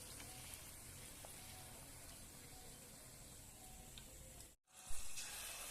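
Malpua deep-frying in hot oil gives a steady, dense sizzle that runs unbroken, cuts out for a moment near the end, then returns with a brief louder bubbling burst.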